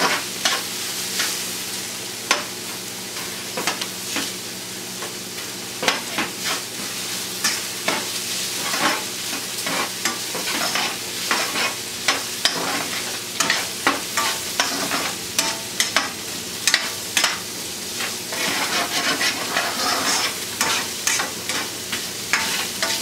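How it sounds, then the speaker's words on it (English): Nopalitos fry in a pan with a continuous close sizzle, broken by frequent scraping clicks of a utensil stirring them, steady throughout with no talk. "So I want to give them a good frying."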